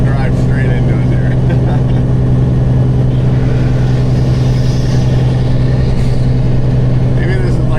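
A Volvo truck running bobtail hums with a steady, loud low engine drone as it pulls away at night, the cab noise constant and close with a voice briefly speaking.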